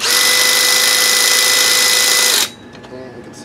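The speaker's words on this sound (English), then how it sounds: "got my Makita drill, just start. I gotta prime the engine" A Makita drill spins to crank an O.S. CV-R .18 nitro RC engine installed in a Traxxas T-maxx, giving a loud, steady, close whirring drone for about two and a half seconds before it cuts off abruptly, leaving only faint quieter sounds.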